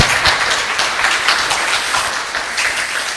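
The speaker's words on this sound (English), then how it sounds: "Let's give a huge round of applause for ourselves." An audience at a college yoga festival applauds with sustained, dense clapping throughout, loud and close, with no talk over it.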